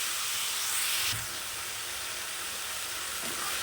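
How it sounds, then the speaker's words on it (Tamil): Tomatoes and onions sauté in a pan for gongura pachadi, a soft, even hiss that swells briefly in the first second and then settles into a quieter steady sizzle. "பாருங்கள், இந்த தக்காளி வெங்காயம்லாம் நல்லா வதங்கிருச்சு"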